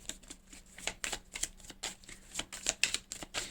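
Tarot cards shuffled in quick, papery riffles and flicks, a steady run of soft close-up slaps with brief pauses, no talking.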